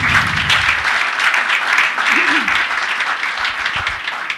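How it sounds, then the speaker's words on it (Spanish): Loud audience applause continues throughout, a dense steady clapping from a crowd, with a brief voice faintly audible underneath partway through. "Pido un aplauso para él también."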